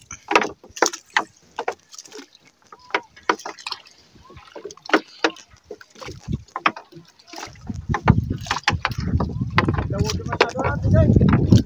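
A small fishing boat towed across the sea by another boat, water slapping and wooden creaks, then a steady rumbling engine-and-water wash swelling louder toward the end, with voices talking intermittently over it.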